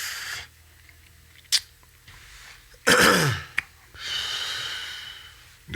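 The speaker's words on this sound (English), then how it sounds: "You over there coughing up a lunky." A person coughs and clears their throat, with a short hack early on and a harsh, louder throaty burst midway, followed by breathing noise; close and alone, with no talk.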